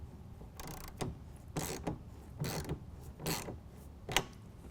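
A hand ratchet tightens a tonneau cover clamp in five or six short bursts of rapid clicking, close and moderately loud.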